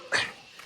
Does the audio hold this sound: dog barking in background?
yes